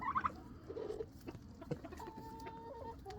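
Silkie chickens in a rain-soaked coop giving soft, low clucks and a few brief higher calls, close but fairly quiet amid faint background noise.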